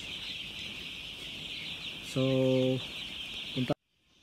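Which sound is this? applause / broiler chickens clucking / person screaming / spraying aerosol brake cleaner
broiler chickens clucking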